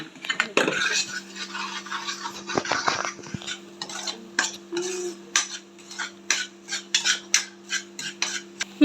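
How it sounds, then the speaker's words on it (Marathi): Masala roasting in oil while a metal spoon stirs and scrapes the pan in quick repeated strokes, a rhythmic clatter over a faint sizzle and a low steady hum, close by, without talk. "आता छान असा मसाला आपला भाजून घ्यायचा तेलामध्ये एक 5-10 मिनिटं।"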